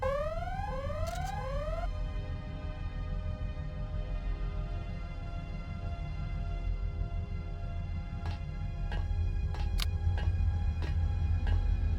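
An alarm blares in Deus Ex, a repeating electronic tone with falling sweeps at the start, then steady over a low rumble with a few sharp clicks later on.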